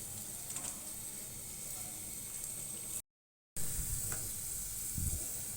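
Chopped onions frying in hot oil, a steady bright sizzle with occasional stirring scrapes, briefly interrupted by a short gap of silence before the frying noise resumes close up.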